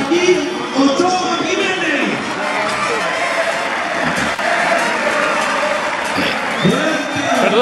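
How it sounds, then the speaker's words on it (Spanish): A stadium crowd cheers and applauds steadily for a football midfielder, a dense continuous roar that sits under a voice talking over it throughout. "El aplauso para Joaquín Ochoa"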